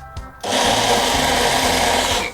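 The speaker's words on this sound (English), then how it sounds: "Shadow, I need to use your blender" An electric kitchen blender roars on after a short quiet start, whirring loud and steady as it blends a panade mixture, with a faint rattling churn underneath until it cuts off.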